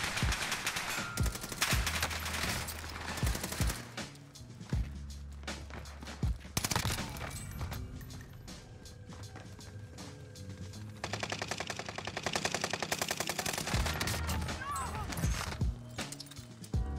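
Gunfire in the video game Warzone, rapid automatic bursts and scattered shots under busy game noise and footsteps, with players talking over it.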